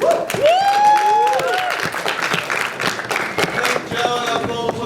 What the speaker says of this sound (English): Joe and applause for Jason to summarize the debate from the second proposition side.